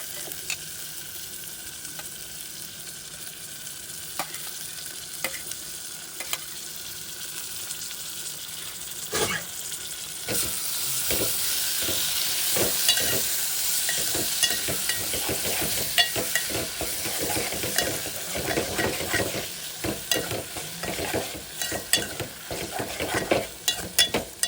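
Tomato pieces sizzle in a hot pan for egg tomato curry while a spoon stirs and scrapes, the frying hiss growing louder midway with repeated clinks of utensil on the pan.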